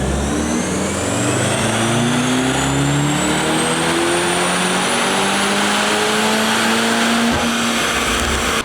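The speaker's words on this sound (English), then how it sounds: "Here's JB4 map 1 on a 2025 C63S AMG." On a dyno, a 2025 Mercedes C63S AMG running JB4 map 1 roars continuously at full load, its engine note climbing steadily in pitch through the run with a loud, dense exhaust and a rising whine, close and unbroken.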